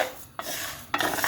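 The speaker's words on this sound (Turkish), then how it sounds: "Önce kısık ateşte şehriyelerimi yağsız bir şekilde kavuruyorum." Dry vermicelli is toasted without oil over low heat and stirred in a pot. Two close, rasping scrapes of stirring are heard, with steady frying hiss beneath and no voices.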